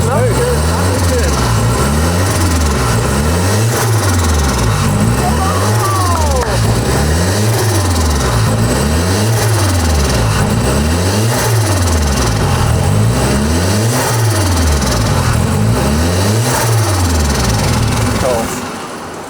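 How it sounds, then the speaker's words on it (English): A Renault 5 GT Turbo engine, just revived after five years, revs repeatedly in a steady rising-and-falling rhythm, loud and close, each rev swelling then dropping back toward idle. "that when you rev it, it clears"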